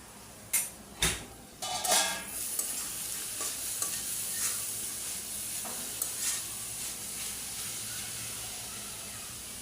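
Papaya stir-fries in a pan with a loud, steady hiss and sizzle that runs throughout. A few sharp knocks of the spatula against the pan come early, followed by softer scraping stirs.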